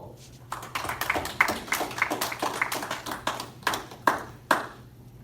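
Scattered hand claps from a small group at a Masonic lodge officer installation ceremony, uneven and sparse, with a few sharper individual claps toward the end over a quiet room.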